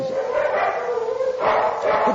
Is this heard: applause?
no